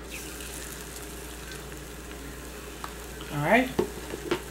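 Parmesan-crusted fresh swai fish sizzles in a pan, a low steady frying hiss with a brief louder crackle and stir near the end; a voice speaks briefly.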